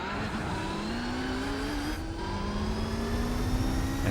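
A race car engine in Gran Turismo 4 accelerates hard down a front stretch in another car's slipstream, its loud, continuous drone rising steadily in pitch with a brief shift partway through.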